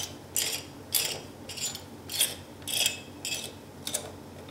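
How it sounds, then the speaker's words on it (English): Screwdriver driving screws into a CPU fan while building a computer, giving about seven short, evenly spaced bursts of ratcheting, grinding clicks up close, with quiet gaps between them and no talk. "you need a screwdriver. And just screw everything in."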